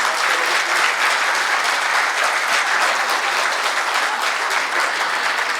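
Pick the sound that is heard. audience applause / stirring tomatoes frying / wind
audience applause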